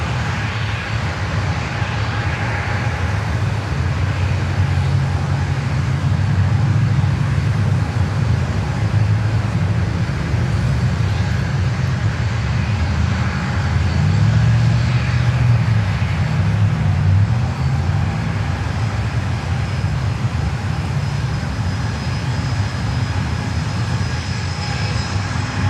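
An airliner, such as an American Airlines Embraer 175, taking off at New York LaGuardia in a strong crosswind, with a loud sustained engine roar that swells and rumbles steadily throughout.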